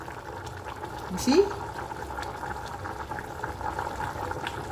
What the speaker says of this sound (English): Let me show you how it's boiling.